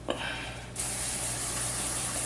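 Short pump of a spray bottle, then a sustained hissing spray close up, steady for over a second.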